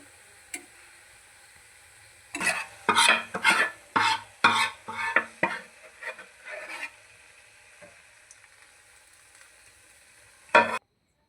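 Sweet winter pitha fries in hot oil at a controlled temperature, starting with a quiet bubbling, then a burst of loud clattering and stirring knocks in the middle, one sharp knock near the end, and no talk.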